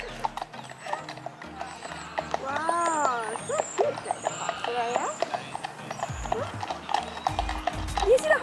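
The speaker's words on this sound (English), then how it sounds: "It's a horse." Horse hooves clip-clopping at a steady walking rhythm on a road during a European road trip, with a horse whinnying clearly in the middle; people talk throughout over the hoofbeats.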